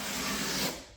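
Sandpaper rubbing along the rough edge of a wooden modeling bench, one short, close, steady scratchy stroke that fades at the end.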